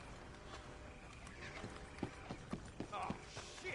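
Horses in the Red Dead video game walking with a few clip-clop hoof falls at moderate distance, faint against a low game background while people talk.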